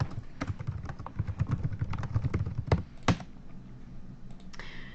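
Rapid keystrokes clatter on a computer keyboard in a dense burst of close taps, then a few louder isolated clicks before the typing trails off into quiet.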